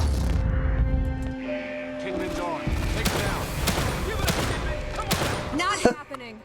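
Gunfire from The Evil Within 2, a rapid series of sharp, loud shots and impacts layered over game music and ambient effects, with a voice talking over part of the action.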